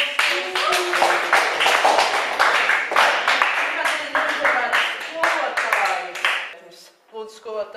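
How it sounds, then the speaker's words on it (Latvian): A classroom full of students at a school night event claps in a loud, quick patter for around six seconds before it dies away, with voices picking up right after. "Pareizi, aplausi!"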